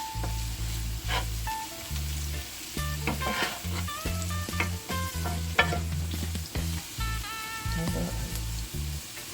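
Jamaican saltfish fries with onion and garlic in a pan, a steady close sizzle and crackle broken by stirring scrapes and clinks, with no talking over it.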